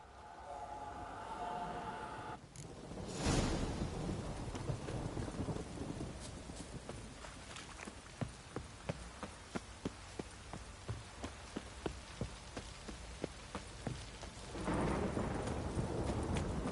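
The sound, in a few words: downpour with thunder in video game Witcher 3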